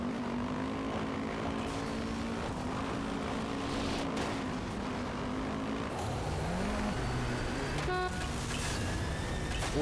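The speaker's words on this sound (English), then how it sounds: "that's a pretty loud horn on the ATV there" An ATV in the MotorStorm racing video game blares its horn in a short, loud honk late in the clip, over continuous engine drone and race noise.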